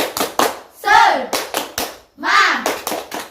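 A class of children does a rhythmic clapping chant, sharp groups of hand claps alternating with short loud shouted chant bursts, close and energetic.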